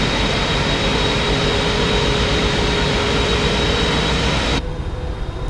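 Steady, loud broadband roar of Boeing 777-300ER jet engines in the Microsoft Flight Simulator 2020 game, a constant wash of engine noise with a faint tonal whine that drops abruptly to a quieter, duller level near the end.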